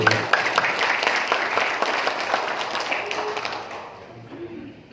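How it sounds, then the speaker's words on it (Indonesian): Applause from an audience at an Indonesian sharia-based partnership and direct-selling seminar, a dense patter of clapping with sharp taps throughout that thins and fades near the end. "tepuk tangan dong untuk kita"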